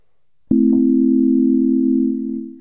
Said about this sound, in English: this is just an init patch on the Digitone, which is just pure sine waves to start with